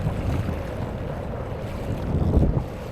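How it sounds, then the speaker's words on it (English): Strong wind gusts across the open water near a tiny New York City island, a loud, rumbling low buffeting with wave and boat noise, close and unbroken, with no one talking. "Wind and tide are so strong right here in the middle though."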